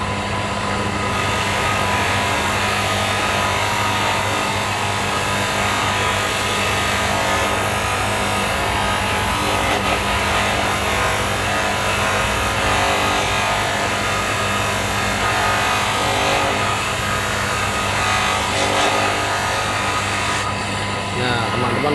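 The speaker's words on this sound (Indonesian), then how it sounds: "ketika kain berputar pada dinamo tersebut, kita gesekkan batu poles ke kain yang sedang berputar" A spinning cloth buffing wheel on a motor, with polishing compound rubbed onto it, polishing a sanded motorcycle carburetor: a continuous loud whirring, rubbing hum that runs steadily throughout, without pause.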